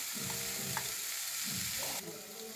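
Crushed green chili and ginger frying in a pan, a steady close sizzle with brief stirring scrapes.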